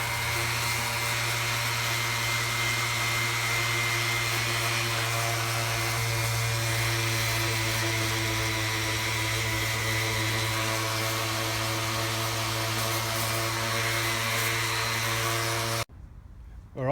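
A power polisher fitted with a coarse 40 grit pad grinds a tile or stone edge, giving a loud, steady motor whine with a constant tone that runs close and unbroken, then cuts off abruptly near the end.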